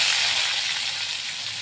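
Crushed garlic sizzles in hot oil in a wok, a steady, bright hiss of frying that stays even and close for a moment, with no voices.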